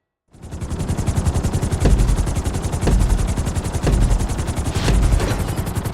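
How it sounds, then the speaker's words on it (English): A helicopter in GTA V during a flying lesson, its rotor chopping in a loud, steady, rhythmic pulse that fills the whole stretch after a brief silent start, with a few sharper swells along the way. "In a plane, we're going to put you in a helicopter for this lesson."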